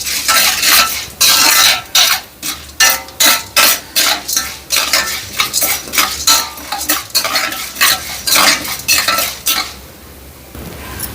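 Fenugreek seeds frying in a pan for mint chutney, stirred briskly so that loud, rhythmic metal scrapes and clatters repeat over a constant sizzle before settling near the end.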